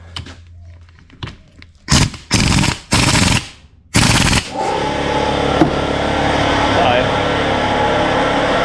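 An impact wrench works on the differential of a Nissan Patrol, firing four loud hammering bursts of about half a second each with short pauses between them, followed by a steady mechanical whir and hum.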